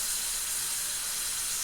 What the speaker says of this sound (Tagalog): So, ilagay na natin to. Igisa natin tong talbos ng kamote.